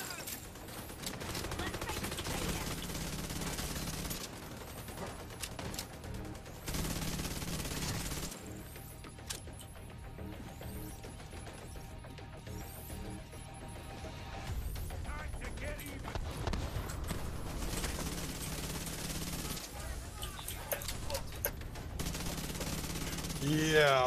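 Gunfire from The Division 2: rapid automatic bursts and volleys mixed with game effects, loud throughout, with players talking over the shooting.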